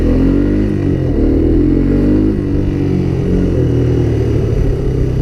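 A Honda Big Red 250 three-wheeler with a freshly cleaned carburetor and automatic clutch revs and accelerates close by, a loud, rough engine drone with rising and falling pitch held throughout.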